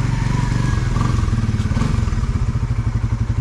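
A motorcycle engine idles close by, loud and steady, with a fast, even throbbing pulse and a light mechanical clatter throughout, no voices over it.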